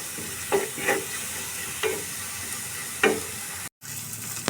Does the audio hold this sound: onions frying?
yes